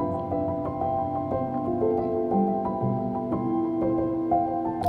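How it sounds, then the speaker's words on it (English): Sampled piano notes from a polyphonic multi-sample ring out in a slow, sustained melody, washed in echoing stereo delay and reverb, steady and moderately loud with no voices. "All of that is then playing a poly multi-sample, which is this piano sound you hear."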